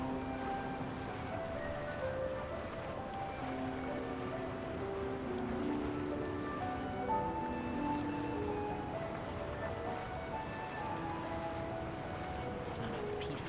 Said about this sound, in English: Sound of peaceful water.